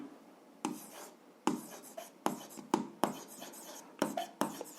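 A pen scratches across paper in short bursts of strokes with brief pauses between them, close and fairly quiet, while a 7th-grade algebra exercise is worked out; there is no talking.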